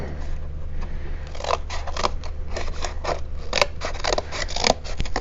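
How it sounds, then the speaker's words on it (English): Scissors cut through cardboard for a children's robot craft project, making a series of close, crisp snipping and crunching cuts that come in irregular bursts over a low background hum. "And I'm going to cut this"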